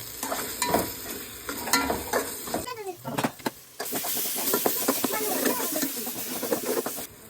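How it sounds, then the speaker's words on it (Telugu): Fresh mint leaves stirred into sizzling oil in a pan while cooking egg pulao: a steady, close frying hiss with scraping stir strokes and crackles throughout, dipping briefly midway. "ఇదంతా పుదీనా వేసుకొని కలుపుకోవాలి."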